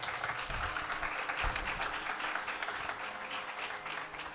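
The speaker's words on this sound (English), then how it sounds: "Another round of applause." An audience at a Carnatic vocal and violin recital gives a dense, steady round of applause that fills the whole stretch, fairly soft and slightly distant, slowly tapering toward the end.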